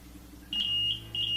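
An IDA-1S infusion pump analyzer sounds its test-completion alarm as two shrill electronic beeps, separated by a short pause, against a quiet hum in the room.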